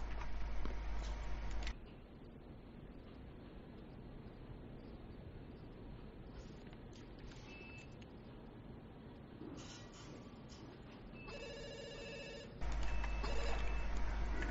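A telephone rings in a Hong Kong gangster film, with loud ring bursts at the start and again near the end over a steady, noisy room background.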